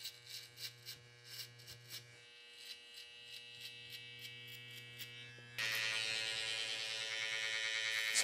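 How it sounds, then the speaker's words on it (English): An electric shaver buzzes close by while shaving hair up against the grain for a high bald fade, a steady bright hum broken by short strokes, then growing louder and harsher as it presses in. "By shaving up, we're shaving against the grain."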